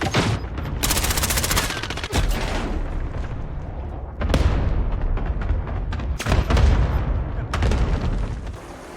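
Cluster strike explosions in Modern Warfare, a loud barrage of rapid booms and gunfire-like bursts in several waves, with brief radio voices amid the blasts.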